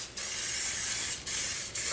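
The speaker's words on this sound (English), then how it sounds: "I'm going to spray it really well" Canola oil cooking spray hisses steadily onto a tot pan, up close and loud. Two brief breaks split it into three continuous bursts, with no talking.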